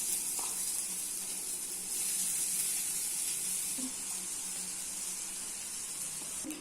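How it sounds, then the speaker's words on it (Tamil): Grated raw banana sautés in a pan with chillies, curry leaves, coriander and ginger, giving a steady, even sizzle that carries on throughout with a few faint stirring scrapes and no talking. "வாழைக்காவை இப்படி நல்லா வதக்கிக்கோ நம்ம."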